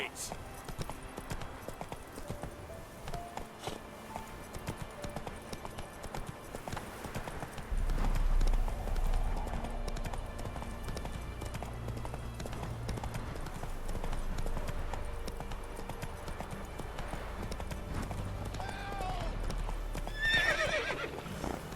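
Roach, the horse in The Witcher 3, trots with a steady clip-clop of hooves that grows heavier midway, and a neigh rises near the end, all beneath someone speaking and game ambience.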